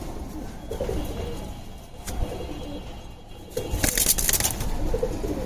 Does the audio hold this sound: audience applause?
no